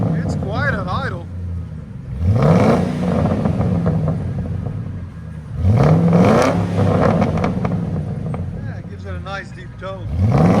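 A 1999 Ford F-150 with a 5.4L Triton V8, true dual exhaust and Cherry Bomb glass packs gives deep, loud revs rising and falling at idle, the engine sound mixed with someone talking.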